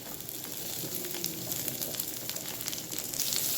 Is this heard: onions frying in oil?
yes